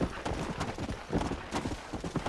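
Horse hooves clip-clop steadily at a brisk pace in Red Dead Redemption: Undead Nightmare, a close, continuous run of beats with no pause.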